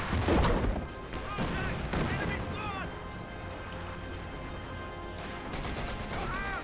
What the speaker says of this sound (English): of course the one you hear with the MG34.